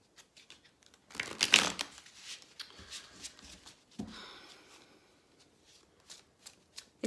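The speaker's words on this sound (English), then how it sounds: "I'm just going to shuffle a little bit more." A deck of tarot cards is shuffled close by, with a loud burst of riffling followed by softer papery slides and taps trailing off into quiet handling.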